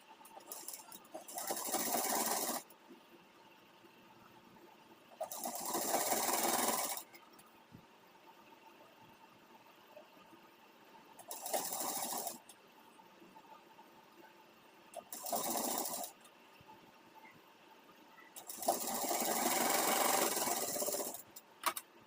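A sewing machine stitches the hem of an Afghani salwar in five separate bursts of rapid whirring, each a few seconds long, with quiet pauses between them.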